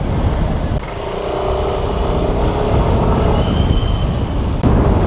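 A Yamaha Aerox 155 scooter engine runs steadily with a rough, droning rumble, close and continuous, with faint wind noise and no voices, after a camshaft repair.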